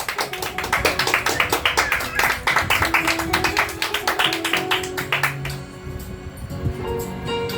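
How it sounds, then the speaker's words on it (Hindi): An audience at a ghazal evening claps in a quick, rhythmic burst of sharp, close hand strikes for several seconds. The clapping then thins out and gives way to sustained musical tones. "जोरदार तालियां इनके लिए भी।"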